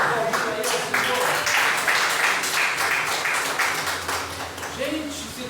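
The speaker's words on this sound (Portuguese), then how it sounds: "você pode aplaudir para ele, Senhor." Congregation applauding during a church service, a steady wash of many hands clapping that sustains throughout and slowly thins toward the end, with a preacher's voice over it.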